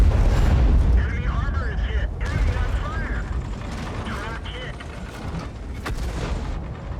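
Tank cannon firing in the online game World of Tanks, a heavy booming shot over rumbling engine and mechanical clatter, with a voice talking over it.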